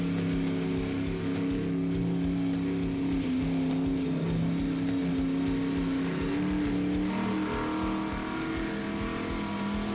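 A Monster Jam truck engine runs loud and steady for a long stretch, with its droning, slightly wavering engine roar close by and no talk over it.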